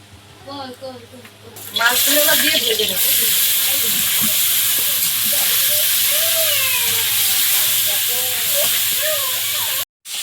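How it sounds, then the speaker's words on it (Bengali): Fish rubbed with salt and turmeric sizzle in hot oil in a Sundarban home kitchen, a loud, steady frying hiss that starts after a couple of seconds and runs on, while someone talks over it. "লবণ হলুদ মাখিয়ে মাছগুলো ভাজবো"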